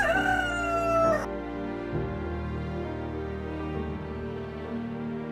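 A chicken crows once, loud and close, the call sliding downward over about a second before giving way to a steady low background hum.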